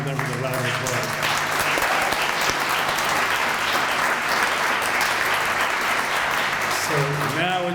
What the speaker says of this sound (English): I ask you to honor them with a round of applause